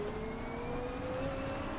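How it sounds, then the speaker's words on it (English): A Mercedes-AMG GT4 brakes into Carousel at Watkins Glen in the Assetto Corsa Competizione racing game, giving a faint, thin, sustained whine that holds steady over the low engine drone. "that braking sound is a bit spooky"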